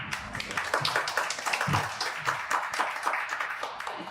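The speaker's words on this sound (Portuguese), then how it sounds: "Guilherme da Impermaster, por favor, palmas para ele, por favor." A short burst of steady clapping and applause from a small crowd, fairly close, with no talking over it.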